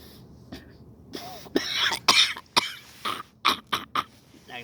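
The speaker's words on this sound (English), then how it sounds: "that was an exaggerated cough" A series of sharp, exaggerated coughs in irregular bursts, close and fairly loud, with quiet gaps between them and no talking.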